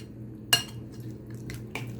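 A spoon clinks against a bowl while masala is stirred with red and orange food colour, two or three light metallic taps over a quiet background.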